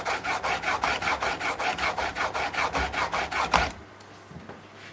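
An old steel chisel rubbed back and forth on a sharpening stone in a woodshop, about fifteen steady even rasping strokes close by, then stopping abruptly into near quiet.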